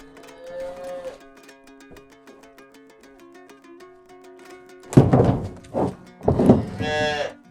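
Calves that were never suckled by their mothers moo close by, several drawn-out calls followed by louder overlapping bellows toward the end.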